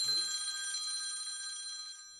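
A telephone bell rings in a steady electronic trill for about two seconds, bright and fairly close, a single sustained ring that fades slightly at the end, with no talk over it.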